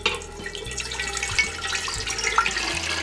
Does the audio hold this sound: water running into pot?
yes